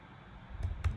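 A few quick clicks on a computer keyboard, faint at first, then two sharper keystrokes close to the microphone.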